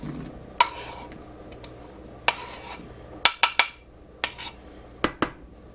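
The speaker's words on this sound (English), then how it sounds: "Now we got our onion in the pan" Onion raked into a pan with a utensil, clicking and scraping in separate sharp knocks and short rattles over a low, steady background hiss, with no talking.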